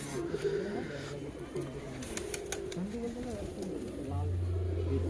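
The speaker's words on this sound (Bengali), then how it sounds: "খুব সুন্দর আইস কবুতর" Giribaz pigeons, including white-faced ice pigeons for sale at a home loft, coo in rolling low phrases beneath steady conversation, with faint chirps and background noise throughout.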